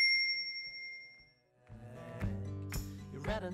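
A notification bell ding rings out as a few bright, sustained chime tones in quick succession, clear and close with no talk over it.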